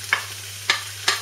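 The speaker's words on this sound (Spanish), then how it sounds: "en cuanto tengamos el aceite suficientemente caliente, lo pondremos todo para que empiece a rehogarse" Chopped ingredients sauté in hot oil for judías secas con butifarra, sounding as a steady close sizzle with three sharp stirring scrapes spaced evenly across the moment.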